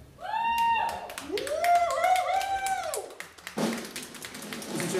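Audience applause for a singer as she is called onto the stage at a live comedy show, with rising whoops and voices early on, then a dense, steady burst of clapping filling the room.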